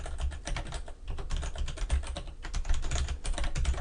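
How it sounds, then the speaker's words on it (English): Fingers type an address on a computer keyboard, a quick irregular run of close, crisp key clicks with short pauses between bursts. "I'm just going to type in my address"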